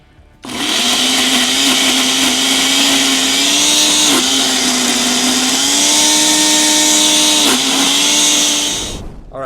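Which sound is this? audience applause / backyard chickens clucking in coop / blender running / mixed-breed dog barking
blender running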